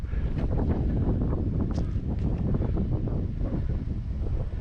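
Strong wind blowing straight into the microphone at an RC flying field, a constant loud low rumble with buffeting gusts and no other sound.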